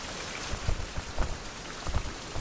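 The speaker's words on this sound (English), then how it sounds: "Apparently soaked has disappeared even though I'm outside running in the rain." Steady rain falls in a video game while a character runs outdoors, a dense constant patter with a few soft low rumbles underneath, heard alone without voices.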